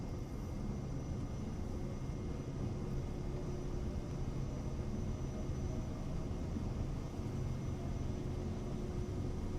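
A KitFox light aircraft in the mountains of Idaho runs its engine at full power during a takeoff attempt, a steady loud droning hum with no break.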